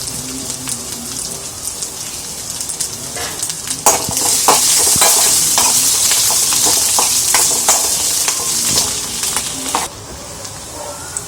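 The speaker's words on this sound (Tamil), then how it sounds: "இப்போ நமக்கு வெங்காயம் வதங்கிடுச்சு" Chopped onion with garlic and curry leaves sautéing in a hot pan, a loud steady sizzle broken by repeated spoon scrapes and stirring clinks.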